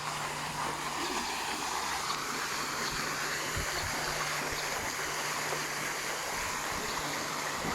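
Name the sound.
water filling a swimming pool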